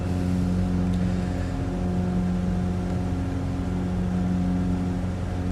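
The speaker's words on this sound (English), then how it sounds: "Still over revving that engine." Light aircraft piston engine in a flight simulator game, running steady and loud at high rpm near 2,700 as it over-revs, a continuous droning hum with strong harmonics throughout, no voices.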